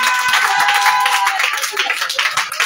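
A congregation at a prayer meeting claps steadily and cheers in praise. The dense, continuous applause and shouting fill the room over a held musical tone.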